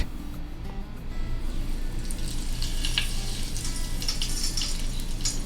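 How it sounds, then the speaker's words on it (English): Tofu deep frying in hot oil at about 170 to 180 degrees, a steady close bubbling sizzle with crisp popping crackles that grow busier in the second half. "The bubbles are a little bigger this time, and you can hear a more crisp popping sound."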